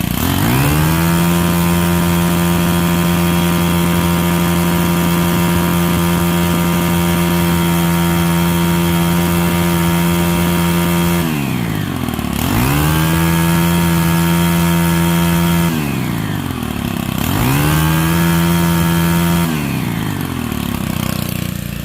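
A Stihl FS90 R string trimmer's small two-stroke engine runs steadily at a high buzzing pitch, then drops and revs back up twice in quick bursts, loud and close with no talking.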